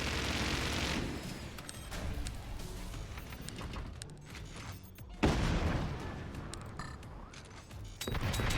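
Dense, continuous battlefield gunfire and explosions from the video game Forts, including AP sniper shots, rumbling steadily with a sharp louder burst midway and another near the end.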